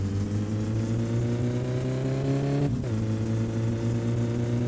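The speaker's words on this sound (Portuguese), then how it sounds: "Será que se eu mandar um cavalo de pau, ele sai gritando de segunda direto aqui, velho?" A car engine revs hard during a handbrake spin in the My Summer Car video game. The pitch climbs steadily, briefly drops as if shifting gear, then rises again, loud and close, with no voices.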